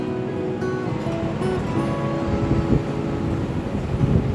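Whole spices, dried red chillies and bay leaves crackling and frying in hot oil for a Bengali katla fish kalia, a steady, dense sizzle throughout, close and fairly loud with no talk.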